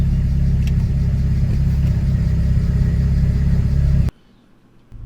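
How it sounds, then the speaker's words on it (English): A BMW 335i single turbo engine idles steadily and loudly up close with a smooth, even rumble, then cuts out abruptly, leaving near silence before a faint return of sound. "Because that's a very stable idle."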